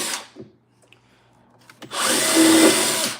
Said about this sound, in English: I have to pre-drill this because I want this to go in nice